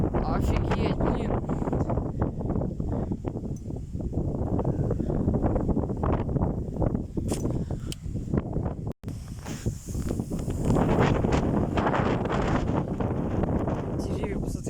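A strong wind storm gusts across an open field, roaring and buffeting the microphone in a loud, continuous rush that barely eases for a moment midway.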